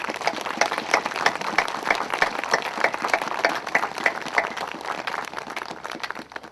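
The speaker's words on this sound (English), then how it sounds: "ask you to join me in a round of applause for each and every one of our veterans that's here with us today" An audience gives a round of applause for veterans at a service members' acknowledgment event, a sustained, moderately loud patter of many clapping hands that tapers slightly near the end.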